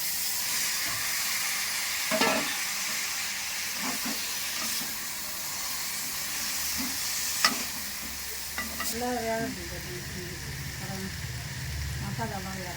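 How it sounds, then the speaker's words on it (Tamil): Boiled meat is stirred into sautéed onions and masala for pepper chicken, giving a continuous sizzle and hiss with repeated scraping stirs and a few louder clanks of the spoon against the pan, close up. "இப்போ ஒரு அளவுக்கு வதங்கின பிறகு நம்ம அவுச்சு வச்சிருக்க கறியை ஆட் பண்ணிக்கலாம்."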